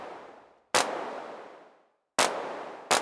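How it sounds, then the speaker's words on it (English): A Vermona DRM drum machine clap with heavy pseudo-reverb fires three times, each sharp, bright hit trailing off in a long reverberant wash before the next. "one of the other great features of the DRM is its lovely clap"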